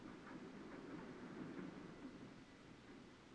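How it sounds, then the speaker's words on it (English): A 1954 iron ore train hauled by three 1,600-horsepower diesel-electric locomotives descends a steep 3.1% grade from the hill, a steady distant rumble with faint rhythmic clatter of wheels on rails and no voices. "the ore train began its descent from the hill"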